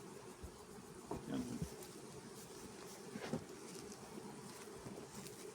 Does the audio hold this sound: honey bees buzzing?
yes